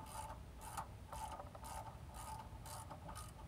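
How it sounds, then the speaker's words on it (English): A socket wrench on an extension ratchets bolts tight while installing an AMP Research bed step on a truck, giving seven or so close, steady bursts of metallic clicking with no talking. "I'm gonna use the socket to reach back in here with an extension on it just to get it started."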